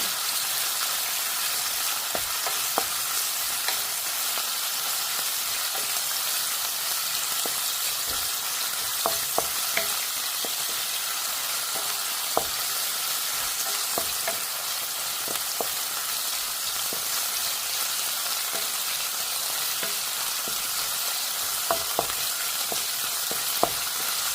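Food fries in a pan and is stirred with a wooden spoon, a steady bright sizzle with frequent soft taps and scrapes of the spoon throughout.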